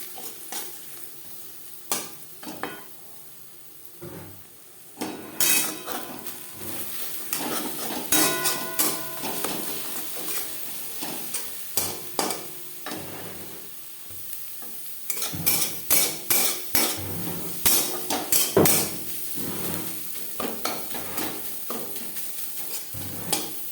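Two eggs being scrambled with a little salt in a wok-style pan, turned with a spatula: rapid repeated scraping and tapping strokes against the metal over a steady frying sizzle, busier and louder in the second half.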